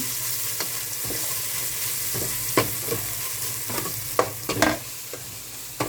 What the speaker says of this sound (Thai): ก็จะคั่วพริกในหม้อก่อนแบบนี้เลย